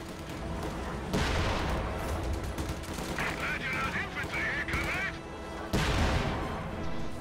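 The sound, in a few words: Sherman tank firing at anti-tank gun in a video game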